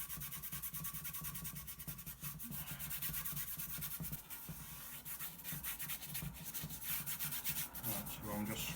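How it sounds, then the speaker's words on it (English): A paintbrush scrubbing oil paint onto a 10 x 12 canvas makes soft, quiet, repeated rubbing strokes in a steady back-and-forth rhythm, close and faint, continuing throughout. "I'm just scrubbing this in there"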